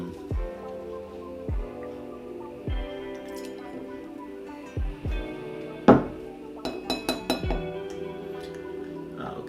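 Stirring a Metaxa Crusta cocktail with ice in a mixing glass: irregular close clinks and taps of spoon against glass and ice, scattered across the span, with a brighter cluster of rapid clinks near the end and no talk.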